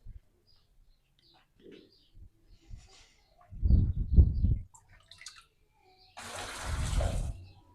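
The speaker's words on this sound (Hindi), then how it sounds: "ये हमने बाल्टी में डाल दिया है, अब इसमें पानी डालेंगे।" Water poured into a bucket during preparation of a herbal salt, a steady splashing pour near the end after quieter handling sounds and a short murmur of voice.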